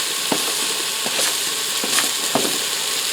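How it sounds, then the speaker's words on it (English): Diced onion and sliced mushrooms sauté in a pressure cooker with a steady, loud sizzle and a few soft scraping stirs. "I'm going to saute them for a few minutes till they soften up."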